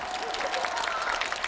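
An audience bursts into brief applause and crowd noise at a live crosstalk comedy show, a rapid patter of clapping mixed with a voice speaking over it.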